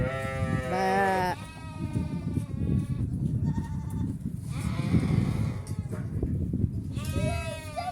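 Goats and sheep bleat repeatedly at a farm in Doha, several wavering calls close by, overlapping with background animal noise and people chattering nearby.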